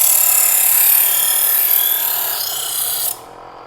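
An electric knife sharpener grinds a blade drawn through its angle guides, giving a loud, steady, hissing buzz for about three seconds before it cuts off sharply, with no voices.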